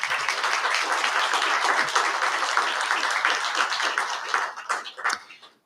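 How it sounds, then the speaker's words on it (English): Award recipients at a governor's spirit awards ceremony get a full round of applause from the audience, steady and fairly loud before tapering off and fading out at the end. "let's give them a round of applause"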